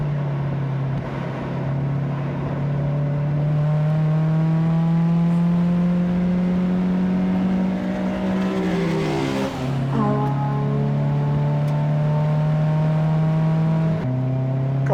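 A Mazda NC Miata engine revs hard on a track-day lap, its strong steady note climbing through the gears with a brief dip for a shift partway through, loud and close with no talking.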